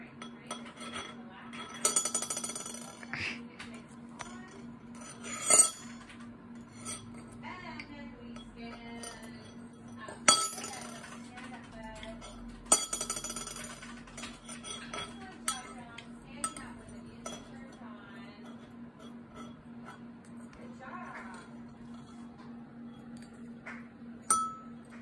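A dog knocking a metal spoon around a hard surface, giving sharp scattered clinks and clatters at irregular intervals over a quiet room with a steady low hum.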